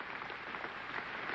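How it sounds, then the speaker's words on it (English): Oxford Union audience on its feet applauding James Baldwin's speech, a steady, dense wash of clapping from a large crowd at moderate distance, continuous without pauses. "The whole of the Union standing and applauding this magnificent speech of James Baldwin"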